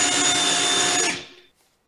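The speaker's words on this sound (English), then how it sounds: "I heard a drill!" A drill whirs loudly and steadily at close range for about a second, then winds down and cuts out, leaving near silence.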